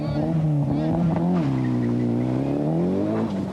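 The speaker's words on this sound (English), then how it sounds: "And Weber setting off with now a massive lead over Dieter Depping." A Mitsubishi Galant rally car pulls away at the 1993 Hunsrück Rally in Germany. Its engine revs loud and close with a rising, wavering pitch for several seconds.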